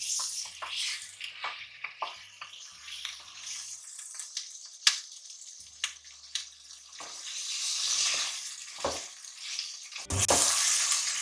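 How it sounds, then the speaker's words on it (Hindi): Chicken sizzles and crackles as it fries in a pan, with intermittent clinks and scraping of stirring, swelling louder toward the end; no speech. "इसको फ्राई कर लेंगे चिकन को"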